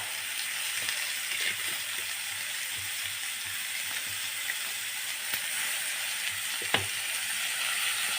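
Tomato and coriander masala frying in a pan for potato rice, a steady hissing sizzle held at an even level throughout, with a few soft stirring knocks close by.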